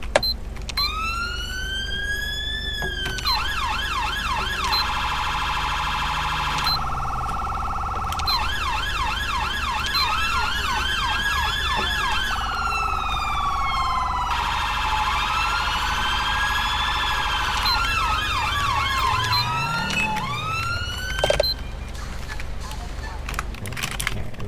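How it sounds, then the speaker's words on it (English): Police and FBI vehicle sirens from the GTA LSPDFR police mod cycle continuously through rising and falling wails and rapid yelps, loud and persistent throughout. "So now you guys will be able to hear the sirens."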